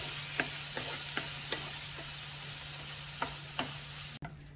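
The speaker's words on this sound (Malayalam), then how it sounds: "നമ്മൾ ടൊമാറ്റോ ചെറുതായി അരിഞ്ഞത് അതും കൂടെ ഇട്ട് നന്നായിട്ട് വഴറ്റുന്നുണ്ട്" Chopped tomato sautéed in masala for meen pollichathu: a faint, steady sizzle under light, regular stirring taps, then an abrupt cut near the end.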